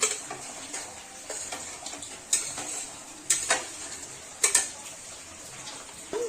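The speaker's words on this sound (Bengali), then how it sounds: "এখন আমি এই যে ভেজে রাখা মাছের ডিমের বড়াগুলো সব দিয়ে দেবো একটা একটা করে" Fried fish egg pakoras dropped one by one into boiling curry in a pot, a simmering bubbling bed punctuated by several distinct clinks and plops of a spoon and pan.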